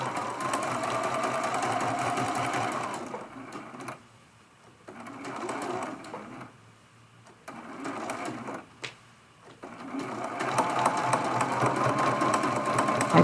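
A sewing machine stitches and backstitches a quilted cookie cutter ornament in close, rapid bursts, pausing twice with quiet gaps before a final longer run of stitching.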